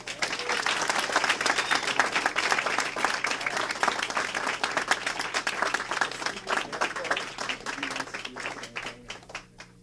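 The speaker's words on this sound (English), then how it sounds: "Let's give him a round of applause." Sustained applause from an audience at a community meeting, honoring a donor; dense, steady clapping fills the whole stretch, loud and near, then thins slightly toward the end.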